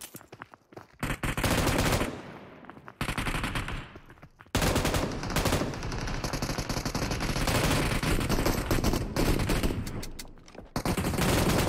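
Gunfire in PUBG Mobile, loud bursts of rapid automatic shots with short pauses and dense, sustained firing near and close.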